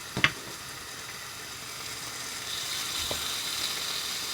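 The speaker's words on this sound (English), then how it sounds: "You can hear it. Second piece of bacon." Strips of bacon frying in a pan give a steady, fairly quiet sizzling hiss, with a couple of sharp pops early on and no talking.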